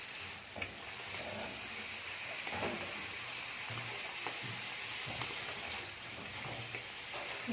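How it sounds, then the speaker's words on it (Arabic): Minced turkey meat sizzles and fries in an uncovered pot while a spoon stirs it, with a steady loud hiss and occasional scraping strokes, no voices. "نبقى هكا نحرك فيه حتى يجي لون ذهبي"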